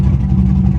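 A Hummer H2 or C5 Corvette engine revs steadily up close while reversing at an IAA auto auction yard, with a continuous low rumble and no talk.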